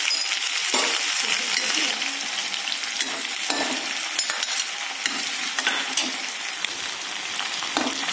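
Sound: panch phoron, ginger, garlic, green chili frying for tomato pickle

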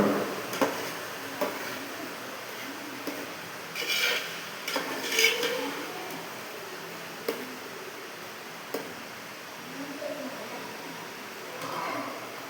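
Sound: stirring thickened ghee payasam in a pot

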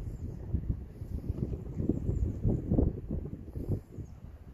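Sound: wind blowing

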